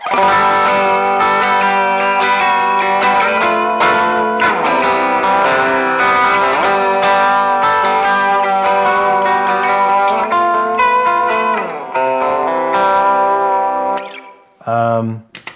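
An electric guitar plays sustained chords through a warbly, lo-fi tape-style effect from a Line 6 Helix Retro Reel, slightly wavering and dulled, ending with a few short strums.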